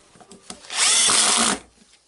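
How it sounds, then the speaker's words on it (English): A short burst of a 1998 Makita HR2410 rotary hammer drill in drilling mode spinning up loudly for under a second, then winding down, with small handling clicks before it. "we just got it on the drilling mode"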